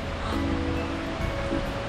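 A waterfall at Ithaca, New York, roars in a steady, dense rush of falling water, heard close and continuous without pause.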